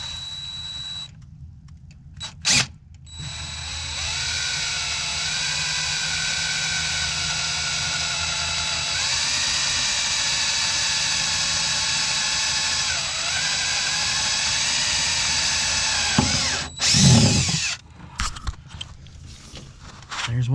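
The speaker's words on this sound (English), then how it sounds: "We're going to drill into this here Impala." A power drill bores a hole through cardboard into the body of a 1962 Impala, its motor holding a sustained whine that shifts pitch a few times as it cuts. Brief knocks come before the whine and a clatter follows.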